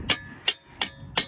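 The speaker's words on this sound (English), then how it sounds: "hammering it, trying to remove as much as I can" Four sharp metallic strikes land at an even pace as a clogged catalytic converter from a car exhaust is hammered to knock out its blockage, loud and close with quiet gaps between hits.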